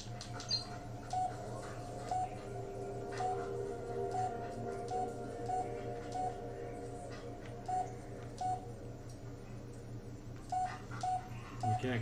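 Dialing tones from a phone inside the Blair Witch video game, a faint series of short, evenly spaced beeps over a low steady hum, with no talking.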